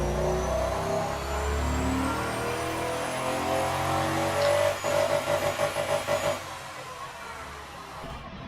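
A 10 litre twin turbo V12 engine from the Automation car game, rated at 1930 horsepower, droning steadily and climbing in pitch, then pulsing in a rapid rough rhythm before easing away, loud and close.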